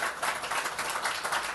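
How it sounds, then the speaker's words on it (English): A short burst of steady audience applause, many hands clapping together at an even level with no pauses. "Let's clap."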